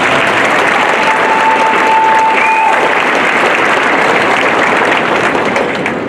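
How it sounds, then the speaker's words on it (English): A large crowd applauds at a 2023 high school graduation ceremony, with dense, sustained clapping filling the hall at high volume throughout. "So let's give them a round of applause."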